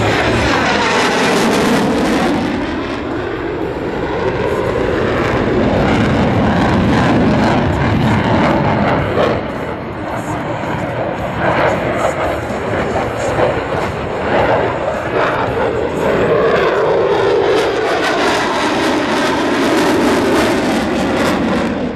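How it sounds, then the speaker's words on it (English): An F-16 fighter jet roars through a tight 9G turn at the 2010 Boston-Portsmouth air show, a loud sustained engine rumble with sweeping pitch shifts as it passes and banks overhead. "Watch now as Major Corrigan shows you just how exceptional the F-16 is in a 9G turn"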